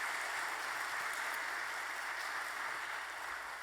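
Church congregation at a dawn family prayer service applauding to encourage high school students, a steady dense patter of clapping held at even level, somewhat distant, with no talk over it.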